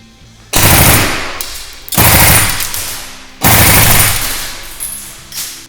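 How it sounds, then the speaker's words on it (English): A WE SCAR-L MK16 gas blowback airsoft rifle fires three loud, rapid bursts on a range, each a sharp rattling volley of shots with brief pauses between, then a softer final pop. "I'm going to fire 3 bursts, maybe, or 4 or 5 rounds down at the target."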